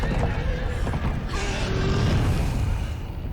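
A horse whinnies in a scene from the TV series The Rings of Power, amid a dense, rumbling, noisy background, with creaking and clattering sounds mixed throughout.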